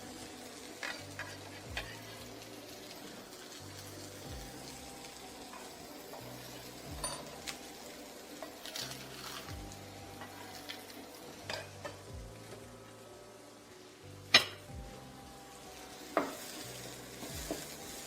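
Ingredients for shrimp nasi goreng sautéing in a pan: faint sizzling with repeated scraping and stirring strokes of a utensil, occasional sharper clinks, no voices.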